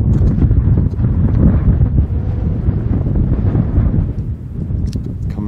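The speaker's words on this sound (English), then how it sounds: "Wind is really picking up now." Strong wind roars against the microphone in a continuous, loud, low rumble during a solo desert hike, gusting unevenly without any talking.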